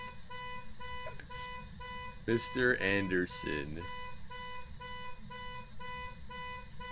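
Electronic alarm in the horror video game Phasmophobia: a steady, repeating high-pitched tone that sounds on continuously and fairly loud, with a voice speaking briefly over it partway through.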